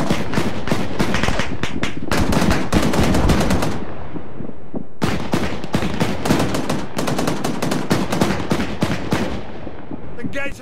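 Sustained automatic machine gun fire in a military combat video game, loud dense bursts of rapid shots with brief lulls, heavy booming impacts mixed in, and voices calling out under the gunfire.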